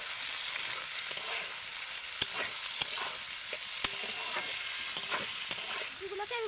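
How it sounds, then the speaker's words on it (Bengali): Capsicum, chopped onion and green chilli fry together in a pan, producing a continuous close hiss of oil with sharp intermittent taps and scrapes of a spatula stirring, steady and untalked over. "এগুলোকে কিন্তু আমি আরেকটু ভালো করে একসাথে ভেজে নেব।"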